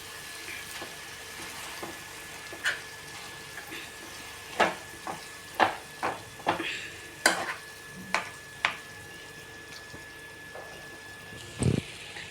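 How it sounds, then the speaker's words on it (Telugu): Smashed boiled potatoes being stirred into a chole chaat mixture in a pan, heard as scattered spoon scrapes and taps at an irregular rhythm, close but fairly soft over a quiet background. "ఇలా మొత్తం కలిసేలా కలుపుకున్నాక"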